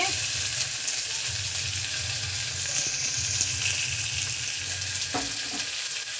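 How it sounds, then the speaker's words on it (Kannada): Onions fry in a pan with a steady, close hiss and crackle that holds throughout, and a soft utensil clink sounds near the end. "ಈರುಳ್ಳಿ ಎಲ್ಲ ಫ್ರೈ ಆಗಿದೆ"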